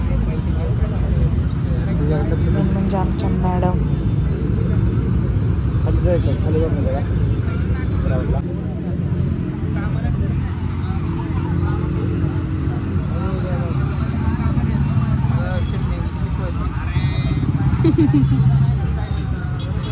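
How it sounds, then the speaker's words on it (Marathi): Road traffic passing through Hatti Chowk, a busy city square: a steady, continuous hum of cars and other vehicles with occasional horns, moderately near, running under people talking and a crowd's background chatter. "गाड्यांचा आवाज पण छान वाटतंय."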